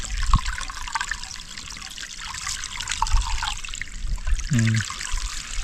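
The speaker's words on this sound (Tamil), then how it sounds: "இப்போ ஓரளவுக்கு தண்ணி வந்துக்கிட்டு இருக்கு" Water streams steadily through the cleared channel of a primitive fish trap, a close, continuous trickling and splashing, with a brief vocal sound near the end.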